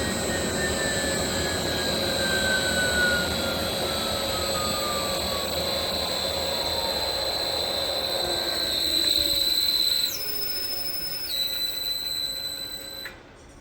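A 7.5HP three-phase regenerative ring blower on a 10HP VFD spins down, its loud steady whine and tonal hum gliding lower as the frequency ramps down, with stepped electronic tones near the end.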